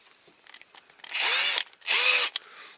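A power drill fitted with a small 2mm bit runs in two short bursts, each about half a second long, with a close high whine separated by a brief pause, working on a restoration of a Dinky Toys Coventry Climax fork lift truck.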